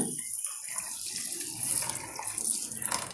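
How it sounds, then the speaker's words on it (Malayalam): Water runs and splashes briefly into a glass nearby, a short steady pour with no speech. "ഞാൻ ഒരു ഗ്ലാസ് വെള്ളം ഒഴിക്കുകയാണ്"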